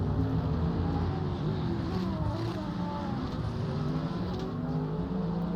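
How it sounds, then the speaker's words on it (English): GT race cars in qualifying at the German Grand Prix in the GT World Challenge, a loud continuous engine roar with shifting pitch sweeps as several cars pass, sustained and dense throughout. "let's hear these cars roar on track"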